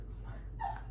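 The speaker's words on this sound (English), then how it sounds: "That's my dog barking." A dog gives a short yelp or whimper-like bark partway through a one-second stretch, heard indoors against a low steady room hum.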